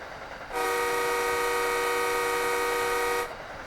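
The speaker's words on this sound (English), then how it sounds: "I use the horn, I can use the bell." A sustained multi-tone train horn from a Boston commuter train in Train Sim World 2 sounds loud and steady for nearly three seconds, then cuts off sharply.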